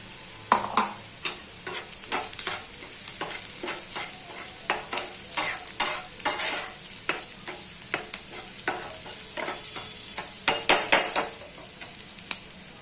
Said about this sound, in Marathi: लसूण, कांदा, हिरवी मिरची परतायला टाकलेली.